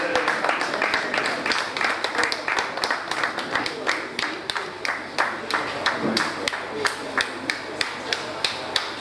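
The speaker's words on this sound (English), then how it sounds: "A round of applause, please, for Oga." Audience applauding a speaker at a day of tributes, a steady wash of many hands clapping that fills the room, with sharp individual claps standing out near the listener throughout.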